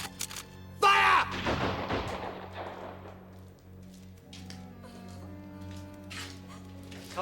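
A firing squad lets off a single sharp rifle volley, a loud crack that rolls off in a long fading echo, followed by quiet background ambience.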